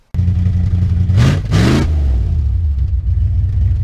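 A 1964 Dodge Custom 880 V8 engine idles with a deep, throaty rumble, revs sharply twice in quick succession, then settles back to a steady loud idle.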